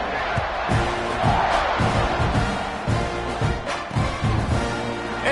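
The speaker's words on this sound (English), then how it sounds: "this crowd is buzzing after that last score" Stadium crowd in the College Football 26 video game after an Iowa State touchdown, a dense, steady roar of noise with scattered louder shouts and thumps throughout, holding at a constant loud level.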